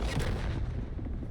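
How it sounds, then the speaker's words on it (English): A transport ship explodes in the video game The Outer Worlds 2, a deep, loud boom with a rumbling low-end roar that slowly fades over about a second. "Oh, that little explosion, that was all Niles' handiwork."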